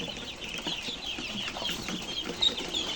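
Hens clucking in a coop housed together with quail chicks, a steady murmur of soft clucks with a sharper call near the end, moderately close and without talk.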